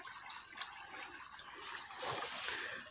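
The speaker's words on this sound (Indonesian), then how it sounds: "Ini hilirnya sungai." River water flows steadily downstream at a natural river in Samarinda, a soft continuous trickling rush heard alone at moderate level.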